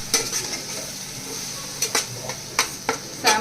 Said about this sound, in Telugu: అల్లం వెల్లుల్లిపాయ పేస్ట్ పచ్చి వాసన పోయే వరకు ఫ్రై చేసుకోవాలి.